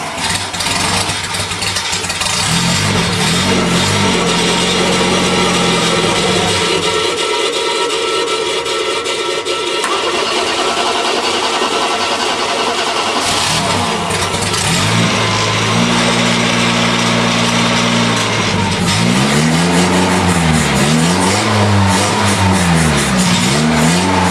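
Monster trike engine with a rebuilt carburetor that won't idle without the choke, sputtering and idling loudly, then revving in repeated rising and falling surges near the end.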